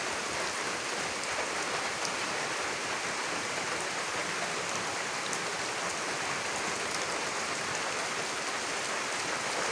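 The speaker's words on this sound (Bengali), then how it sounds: "সন্ধ্যাবেলায় বৃষ্টি হচ্ছে" Steady evening rain falls in a dense, even hiss, close and constant throughout, with no voices and no letup.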